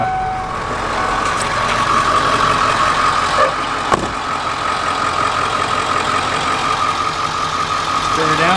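A 7.3 diesel engine in a van runs steadily after a spring revival, a continuous loud knocking idle rumble that holds from start to finish, with a brief sharp clank partway through.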